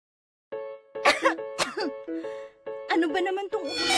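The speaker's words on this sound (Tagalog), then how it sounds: "Ano ba naman tong ubo?" A person coughs repeatedly in short, harsh bursts during a radio broadcast, loud and close, with voiced throat sounds between the coughs.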